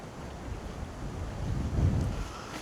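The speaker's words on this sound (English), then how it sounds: "the wind is just ridiculous" Strong wind buffets the microphone on a riverbank beside the River Tweed, a steady low roar that swells louder toward the end, with no voices.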